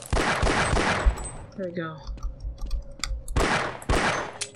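Pistol fire in the game Half-Life: a rapid string of loud, close shots at the start, a quieter gap with clicks and a brief spoken remark, then another burst of shots near the end.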